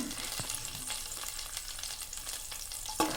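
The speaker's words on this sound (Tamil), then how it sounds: "பச்சை மிளகா நல்லா வதங்கட்டும்" Green chilies, slit lengthwise, sizzle and crackle steadily in hot oil, with a few clinks of stirring and a louder scrape at the end.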